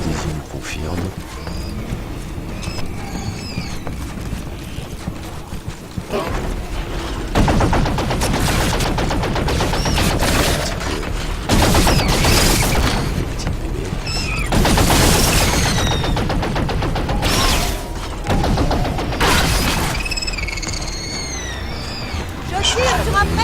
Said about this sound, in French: Je tire sur un prédateur!